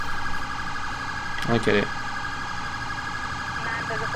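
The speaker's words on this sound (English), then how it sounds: "Here we go, ambulance." A short burst of wailing ambulance siren tones in the video game GTA IV with the LCPDFR mod rises briefly over steady game background noise in snowy weather, with a voice speaking near the end.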